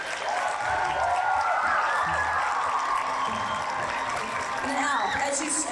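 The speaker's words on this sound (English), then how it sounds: "Let's give a round of applause for all the students." Audience applause with scattered whoops for the students at a Creative Generation show, a dense steady wash of clapping that stays loud for several seconds.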